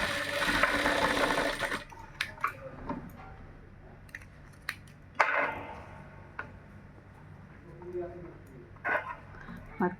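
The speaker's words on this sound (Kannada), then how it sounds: "ಈಗ ಮತ್ತೆ ಈ ಥರ ತಗೊಂಡು ಈ ಲೈನಿಂಗ್ ಮೇಲೆ ಇಲ್ಲೊಂದು ಸ್ಟಿಚ್ ಹಾಕ್ಕೋಬೇಕು." A sewing machine stitches a blouse lining in short bursts, with clicks and handling noises between runs and someone speaking over it.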